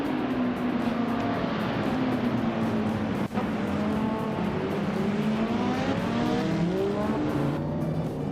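A 1971 Ferrari 512M and other race cars launch off the start line, engines roaring loud and continuous with rising revs and a sharp transient midway, the pack droning close by.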